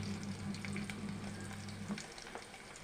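Unpeeled garlic cloves frying in oil in a pan with green chillies, a steady close sizzle running throughout, easing slightly near the end, with no talking.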